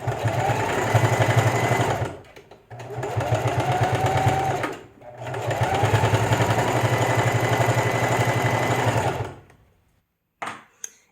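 A sewing machine back stitches and forward stitches where a tie meets a fabric face mask, in loud close bursts of rapid stitching separated by brief pauses, then a short final burst after silence.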